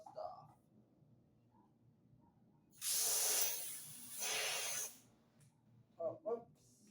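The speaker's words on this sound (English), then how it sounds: "use my um compressed air so I can get all of this dust off." A can of compressed air gives two loud hissing blasts, about a second each, to blow dust off a Country Aire box fan. Quiet room noise and a short murmur come before and after the blasts.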